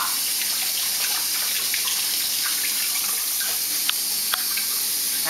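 Hot water runs steadily from a tap into a baby formula feeding container, a constant close rushing stream with a couple of small clicks and knocks near the end.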